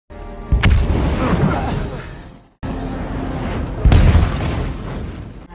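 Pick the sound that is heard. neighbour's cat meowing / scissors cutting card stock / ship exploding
ship exploding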